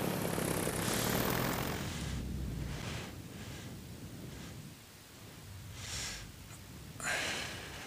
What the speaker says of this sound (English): This motor's running really awesome though, gotta say that.